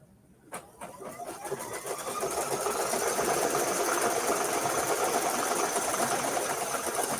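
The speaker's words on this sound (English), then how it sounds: "And then I'll go back and forth and stitch both of the tack downs." A sewing machine runs steadily, stitching back and forth over the tack downs on a shirt collar for applique work. The motor starts after a brief pause and then holds a continuous, fast, close whir with no talking.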